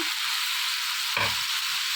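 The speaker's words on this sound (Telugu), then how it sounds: "ఒకసారి ఆయిల్లో మొత్తం బాగా కలుపుకోవాలి" Brinjal pieces are stirred in hot oil while cooking for a brinjal chutney. A steady, close sizzle runs throughout, broken by one brief knock of the stirring utensil midway.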